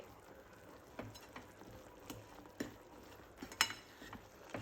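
A spatula stirs flattened rice mixed with peanut powder in a pan, making soft, faint scraping and scattered clicks over a low steady background.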